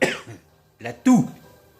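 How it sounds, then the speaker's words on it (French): A few sharp coughs in close succession, each short and forceful, with a quieter gap before the last two bursts. "la toux."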